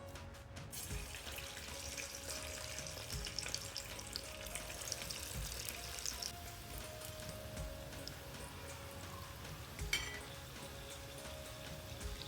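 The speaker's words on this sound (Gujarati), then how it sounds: "તળી નાખશું એને થોડા મીડિયમ ફાસ્ટ તાપ ઉપર" Steady, dense sizzling of soya chunks deep frying in oil over medium-high heat, continuous and close, with a faint clink near the end and no voices.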